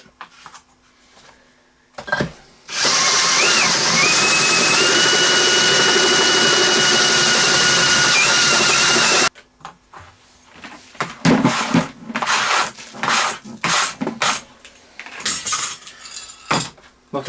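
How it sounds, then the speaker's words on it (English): Power drill boring through a CB microphone plug soldering jig, a loud steady whine with a slight pitch wobble running for about six seconds, followed by scattered clinks and handling knocks. "So that's the drilling done."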